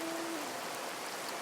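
Steady rain falls in a continuous close hiss of patter for the whole stretch, with a faint hooting tone early on and no voices.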